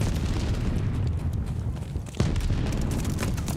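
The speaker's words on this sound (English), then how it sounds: "This nigga threw 2 grenades at me." Two grenade explosions in an online shooter game: dense, rumbling booms over continuous battle noise, with a sharp burst about two-thirds through, close and loud.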